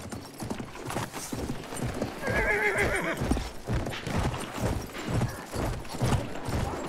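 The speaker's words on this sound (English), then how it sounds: "We're going to have to use the horse." A horse in the video game Battlefield 1 gallops with rapid, rhythmic hoofbeats and gives a loud neigh partway through, close and prominent amid game noise.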